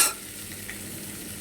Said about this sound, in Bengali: এবারে কেটে রাখা আমি পেঁয়াজের কুচিগুলো দিয়ে দিচ্ছি গরম কড়াতে।